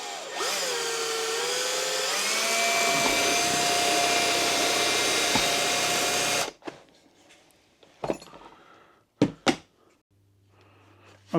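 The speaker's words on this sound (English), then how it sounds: "we have drilled 3/8 hole and the 1/4 inch hole like they asked in here" A power drill bores holes in a 2025 Honda Ridgeline while a trailer brake controller kit is fitted: a loud, steady whine for about six seconds with a pitch dip near the start, then a few sharp clicks and knocks.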